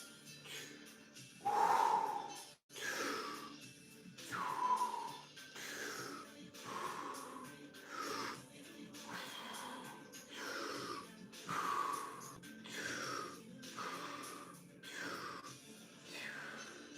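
Slow, deep breaths during a Wim Hof forward bend, about ten in a steady rhythm of long inhales and exhales, close and breathy, with no talking.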